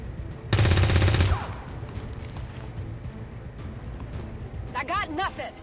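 A loud burst of rapid automatic gunfire from the XCOM 2 Long War 2 video game, lasting under a second, followed by quieter game ambience and talking voices.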